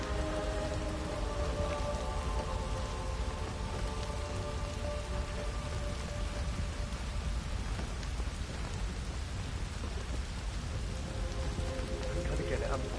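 Steady rain pours down in the video game Hit HELL, a dense, continuous wash of falling drops with a faint tonal hum underneath, heard alone throughout.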